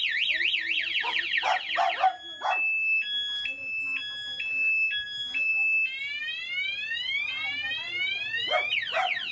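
A remote alarm on a Yamaha Mio scooter cycles through warbling, stepped and rising siren tones, loud and nearby, with brief voices in between.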